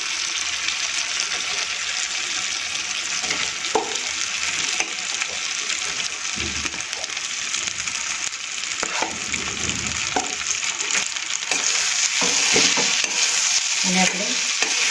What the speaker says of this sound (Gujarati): અને આપણે સારી રીતે મિક્સ કરી અને ધીમી આંચે 5 મિનિટ માટે આપણે આને કૂક થવા દઈશું